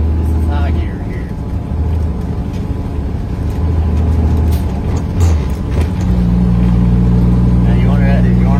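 A cab-over truck's engine rumbles loud inside the cab as the driver works a 10-speed Super 10 transmission, its low drone dipping and shifting pitch around a gear change, with speech heard over it.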